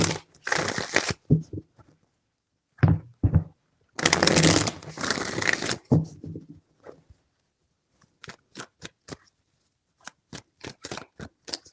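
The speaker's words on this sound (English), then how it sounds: "Three shuffles." Tarot cards being shuffled in quick riffling bursts, with a long rustling stretch in the middle and sparse crisp flicks and taps toward the end, close and dry against silence.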